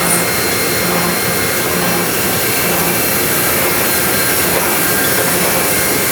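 A booklet maker folds and saddle stitches printed sheets into booklets in a print shop, a loud continuous mechanical roar with a steady whir and faint rhythmic thumps, no voices.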